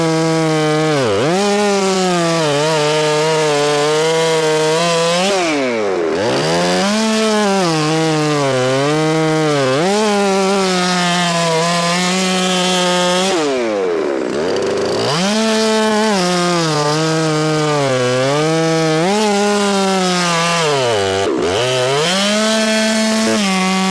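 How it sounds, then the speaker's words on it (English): A chainsaw cuts through a frozen log into evenly sized rounds, its loud, steady high-pitched whine dipping into brief bogs as each cut finishes, repeating several times over the clip. "razor-sharp chainsaw, the frozen log is quickly segmented into evenly sized rounds"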